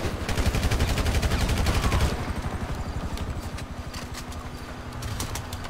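Rapid gunfire during a police shootout in the video game GTA V, loud repeated bursts that thin out into scattered shots after a couple of seconds.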